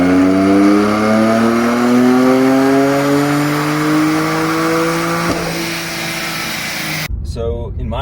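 A BMW F80 M3 with a JB Stage 1 tune runs on a dyno, its engine pulling hard with a steadily rising howl for about seven seconds before abruptly cutting off.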